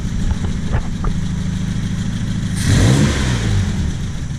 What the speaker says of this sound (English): Once I come over here, I'll rev it up and let it kick down.